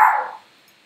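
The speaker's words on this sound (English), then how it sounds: "they're barking at the kids" A single sharp dog bark outside, aimed at children being dropped off from school buses across the street, heard close and loud before quickly fading into near silence.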